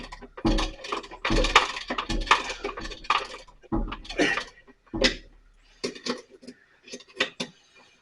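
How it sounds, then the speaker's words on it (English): A ratcheting wrench works on an air compressor under repair, giving a series of sharp metallic clicks and clanks in irregular bursts, close and fairly loud, with brief pauses between strokes. "Now the ratcheting wrench"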